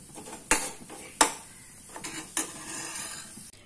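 Palappam batter mixture is stirred in a pan, with a spoon clinking sharply against the metal a few times over a faint, quiet background.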